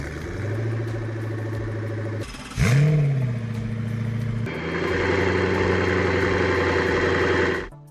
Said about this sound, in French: Le cœur de la Koenigsegg Agera R est son moteur V8 biturbo de 5 litres